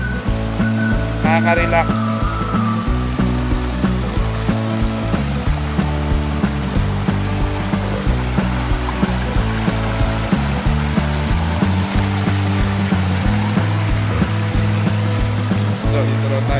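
A waterfall and stream rush steadily and loudly at close range at an agro-forestry eco-tourist campsite in Tanay, Rizal. A voice speaks briefly over the flowing water.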